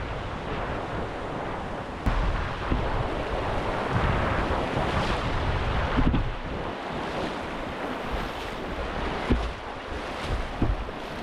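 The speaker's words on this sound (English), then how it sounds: "you come around the corner, you feel the wind coming at you" Strong wind gusts buffet the microphone in rough bursts in a canyon at Zion National Park, with a rushing, water-like roar underneath throughout.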